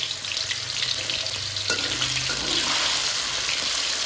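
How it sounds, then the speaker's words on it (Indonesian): Steady crackling sizzle of tofu frying in hot oil, loud and continuous throughout, with a faint watery hiss. "waktunya kita goreng tahunya."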